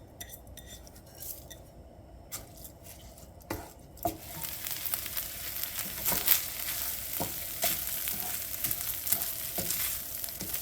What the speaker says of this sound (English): So I'm going to toast the rice for about 10 minutes.